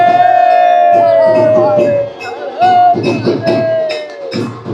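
A large, loud crowd gathers for temple aarti, with cheering voices and yells merging into a dense, continuous roar, while people talk nearby.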